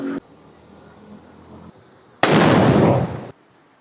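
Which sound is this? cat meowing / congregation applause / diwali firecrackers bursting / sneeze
diwali firecrackers bursting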